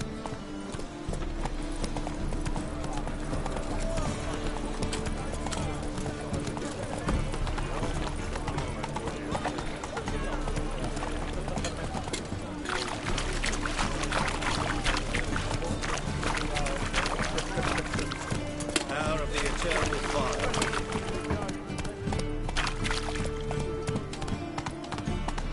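Roach, the horse in The Witcher 3 video game, gallops with steady rapid hoofbeats under a continuous bed of game music, with brief talk over it.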